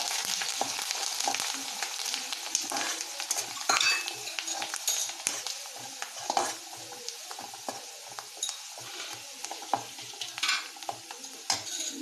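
Garlic, chili and leaves sizzle in a pan for amla pickle: a continuous close frying hiss with frequent scraping and clinks of a stirring utensil against the pan, and no talking.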